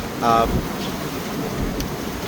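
Storm Amy's wind buffets Blackpool Central Pier on the seafront, a steady rushing roar across the microphone, with a brief voice at the start and a low rumble beneath.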